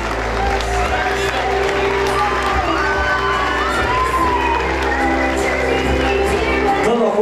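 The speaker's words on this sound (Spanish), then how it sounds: "recibimos a todos los egresados con un fuerte aplauso en esta noche" Crowd at a graduation night ceremony cheering, whooping and clapping for the graduates, a dense, sustained roar with shouts over steady low rumble throughout.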